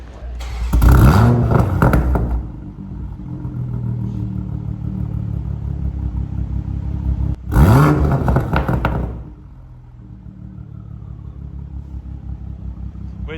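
A Toyota Supra MKV with a custom race exhaust fires up and revs twice, each sharp blip climbing in pitch before dropping back to a steady, rumbling idle close by.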